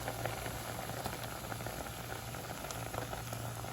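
Pineapple pulissery curry boils in a covered pot with a quiet, steady bubbling hiss and faint soft pops, and no voices.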